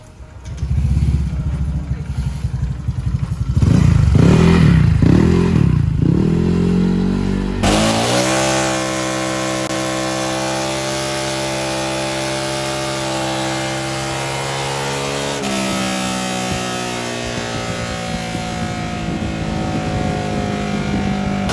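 A Honda Vario 125 scooter with a 58.5mm bore-up engine on an RX7 Racing block revs in a few short blips, then accelerates hard with a rising, sustained whine that shifts pitch midway and continues strongly.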